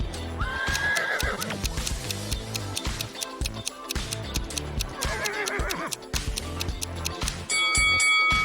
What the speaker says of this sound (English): And whose horse is this?